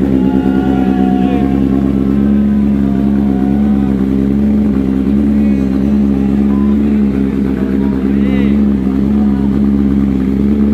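A big motorcycle idles and revs steadily at a motorcycle showroom in Bali, its deep engine drone constant throughout, with people talking over it.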